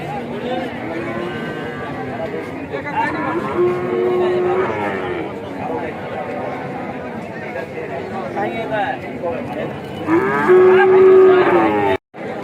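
Cattle at the Sharatnagar cattle market moo loudly in drawn-out bellows, one early and a stronger one near the end, over a constant hubbub of crowd chatter and nearby voices.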